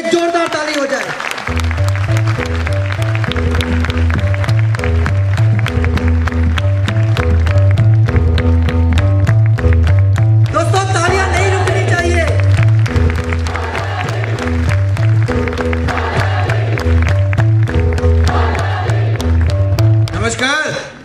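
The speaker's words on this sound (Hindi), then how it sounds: "एक जोरदार ताली हो जाए।" Audience at a Modicare business event clapping steadily to welcome a director onto the stage, the applause running under loud rhythmic stage music with a strong repeating beat throughout.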